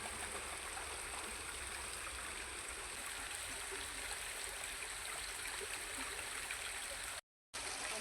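A river flows steadily in a broad, constant rush of water, loud and close throughout, with only a brief cutout near the end.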